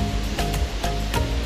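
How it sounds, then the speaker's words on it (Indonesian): Tumpak Sewu waterfall roaring as a steady loud broadband rush of falling water, with short surging bursts and no voices. "Tibalah di lokasi air terjun Tumpak Sewu"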